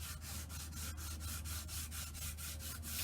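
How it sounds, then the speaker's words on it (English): Sandpaper rubbed back and forth over a wooden shelf upright with swollen particleboard under veneer, steady rhythmic strokes about three per second, close and fairly loud, no talking. "we'll work our way down with the sandpaper again"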